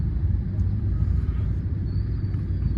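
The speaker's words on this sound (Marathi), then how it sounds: "आता ट्रॅफिक ही झालेली आहे ती आपल्या तिसगाव पुणे लिंक रोडमध्ये झालेली आहे" Heavy road traffic on the Tisgaon–Pune link road: a steady low rumble of engines and idling vehicles, continuous and moderately distant, with no voices.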